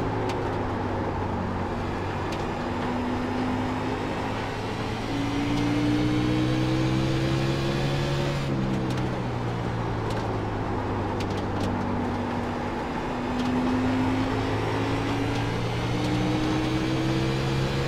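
Race car engine holds a steady, loud drone that rises and falls with shifting pitch as it laps the Richmond racetrack in a Winter Cup Series event, with a brief dip around braking into a corner.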